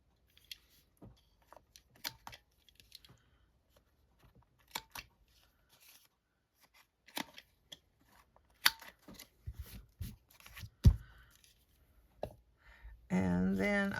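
A corner-rounding punch or scissors trims paper tags with a series of sharp, quiet clicks and snips spaced irregularly, with soft speech heard between them and a rustling burst at the end.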